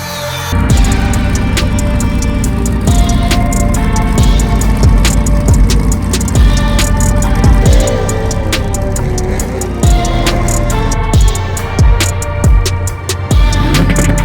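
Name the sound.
race car engine running at partial throttle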